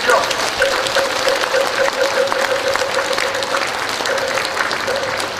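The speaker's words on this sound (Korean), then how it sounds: "우리 마음공 큰 스님에게 큰 박수 좀 한번 보내주십시오" A large audience at a Buddhist leaders' ceremony applauds loudly and continuously, with dense sustained clapping throughout.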